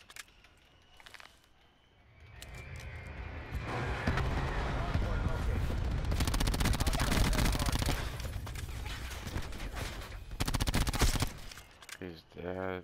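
Suppressed gunfire in Black Ops 4, a busy run of rapid muffled shots and bursts that builds after a quiet start, with speech mixed in over the shooting.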